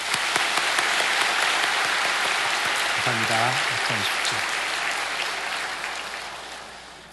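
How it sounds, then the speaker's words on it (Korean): Sunday worship congregation claps steadily to welcome visiting school teachers, a broad and sustained round that tapers off slowly, with a short spoken thanks heard over it midway. "우리 격려 환영의 박수를 하겠습니다"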